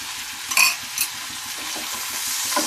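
Papaya stirred with turmeric, sugar and ginger in a pan for chenchki, with a couple of metallic spatula clinks early on over a steady close sizzle, no talking.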